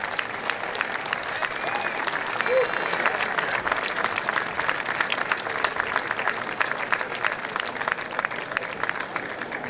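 Dense crowd applause fills a stadium for a town wind band from Patrica, a steady wash of many clapping hands lasting throughout, with faint voices mixed in.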